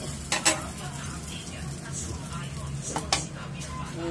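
Pancakes sizzle in a pan at close range, a steady frying hiss broken by a couple of sharp scraping and clinking utensil hits, with no voices.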